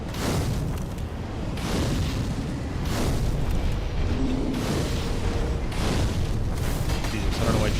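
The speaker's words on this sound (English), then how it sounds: "Explosion." Explosions in Dark Souls 3 roll out as deep, loud booms in repeated bursts over a rumbling game soundscape, with no voices.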